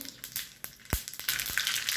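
Mustard seeds crackle in hot oil as tempering for a raw mango chutney, a sharp sputter of scattered pops that thickens into a denser sizzling hiss near the end.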